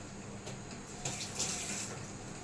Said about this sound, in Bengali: এই যে দেখো বড় বড় চিংড়ি বা ভালো করে ধুতে হবে